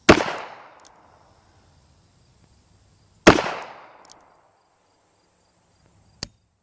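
An old Smith & Wesson Model 36 flat-latch revolver fires two loud, sharp shots about three seconds apart, each ringing out with a decaying tail outdoors, followed by a faint metallic click.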